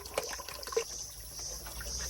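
Cold water poured and splashing during a bath at a public water spring, with a couple of distinct splashes followed by a soft steady trickle and drip.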